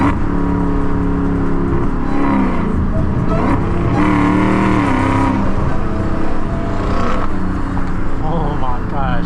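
Modified Dodge Hellcat with a 1000 horsepower engine revving hard in rush-hour traffic, loud aggressive bursts and whine from nearby, with excited voices talking over it.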